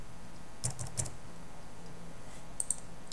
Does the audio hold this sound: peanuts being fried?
no